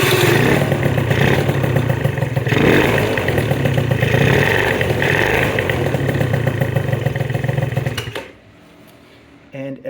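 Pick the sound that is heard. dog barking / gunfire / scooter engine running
scooter engine running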